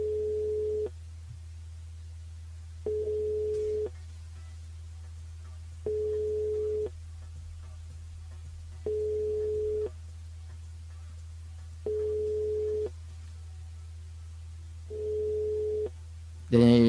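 Unanswered telephone ringback tone, six evenly spaced one-second beeps separated by two-second gaps over a low steady hum, with a brief burst of noise at the very end.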